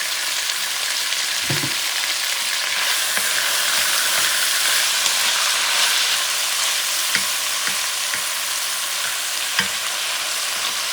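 Bison shank pieces sizzling steadily in a hot pan, a dense continuous fry hiss with a few scattered pops and soft clicks, close and alone without any voices.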